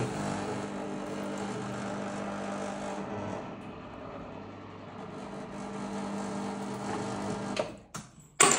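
An IperAutomatica vending machine starting up, giving a steady mechanical hum with a tonal motor whine that dips briefly midway, then ends in a few abrupt clunks and knocks; no talk.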